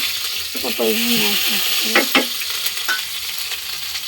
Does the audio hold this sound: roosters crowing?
no